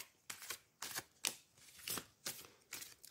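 Oracle cards shuffled by hand for a tarot-style reading, six or seven quick riffling bursts in a steady rhythm, close and crisp in a quiet room with no talk.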